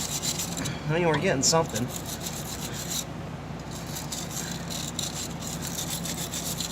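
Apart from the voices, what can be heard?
scrubbing rust off a K1500 O2 sensor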